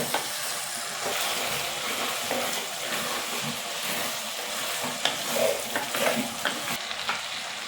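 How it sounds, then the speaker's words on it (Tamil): Turkey berries (sundakkai) with salt and garlic sautéing in a pan, giving a steady broad sizzle with occasional stirring scrapes and clicks, fairly close and continuous. "சுண்டைக்காயில் நம்மளுக்கு உப்பு பிடிக்கணும், அதுக்காக உப்பு சேர்த்து நான் இதை நல்லா வதக்கி எடுத்துக்கிறேன்"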